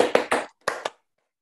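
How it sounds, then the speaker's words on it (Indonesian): Audience clapping in bursts for Indonesia's national football team, four sharp sharp-edged hand-clap groups close by, with a brief pause between the first three and last two, then silence. "Tepuk tangannya bener dong"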